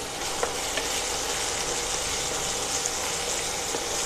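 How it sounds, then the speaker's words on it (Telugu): Ginger garlic paste with turmeric sizzles steadily in a pan for a masala gravy curry, a constant close frying hiss with a few faint stirring clicks and no talking. "ఈ అల్లం వెల్లుల్లి పేస్ట్ పచ్చివాసన పోయే వరకు వేయించుకోవాలి."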